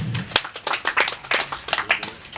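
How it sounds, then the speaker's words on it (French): A small group at a donation ceremony for hospitals in Ituri province claps together in a brisk, uneven burst of sharp, close hand claps lasting a couple of seconds, with no talk over it. "Applaudissez pour l'autorité."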